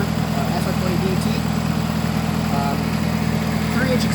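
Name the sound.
Nissan Avenir SR20DET turbo engine running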